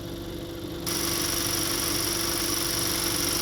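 A 2014 Honda Accord engine idles with a steady hum, and a louder broadband whoosh from the radiator fan area abruptly shifts partway through, continuing strongly to the end.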